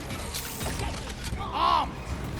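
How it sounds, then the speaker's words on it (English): A sentry gun being put together in the video game Deep Rock Galactic, giving a short run of mechanical clicks and clanks with a bright metallic whir near the end, partly under a voice speaking. "Sentry gun needs assembling."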